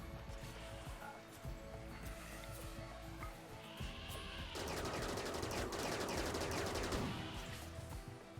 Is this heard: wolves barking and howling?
no